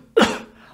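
A single sharp cough, loud and close, with a sudden onset and a breathy tail that fades over about half a second.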